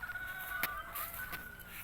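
Chickens cluck softly in short bursts nearby, with a faint high crowing note and background barnyard noise.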